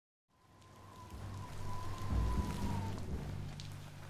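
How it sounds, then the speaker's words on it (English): Rain in the video game Biomutant fades in and settles into a steady, moderately loud hiss, with a faint low rumble beneath. "Might as well just dive in that rain and get wet."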